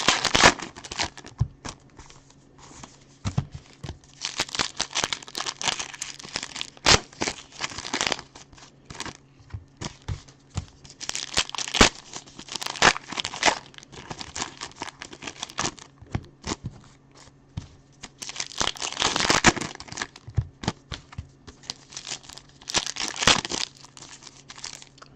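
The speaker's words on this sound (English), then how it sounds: "opening packs of cards" Foil packs of football trading cards torn and crinkled open up close, in repeated bursts of crisp crackling and ripping separated by brief quieter handling, with no talking.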